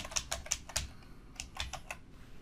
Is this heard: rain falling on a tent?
no